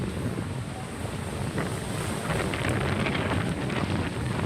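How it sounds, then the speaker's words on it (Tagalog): Steady roar of sea waves and gusting wind buffeting the microphone, continuous and fairly loud with no voices. "Baud sa dagat."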